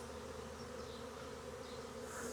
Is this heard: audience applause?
no